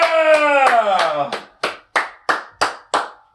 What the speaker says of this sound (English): that clapping added some decibels